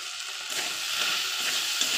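Spice mixture with salt and turmeric sizzling steadily in a hot pan, a close, constant bright frying hiss with faint stirring scrapes.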